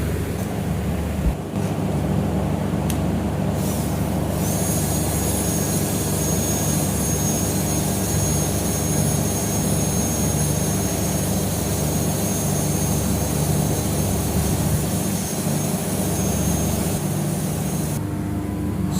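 A rod wrapped in sandpaper spins inside the worn bosses of a big bent bucket in an engineering machine shop, making a steady, loud, unbroken roar and rasp that holds evenly throughout, with no voices.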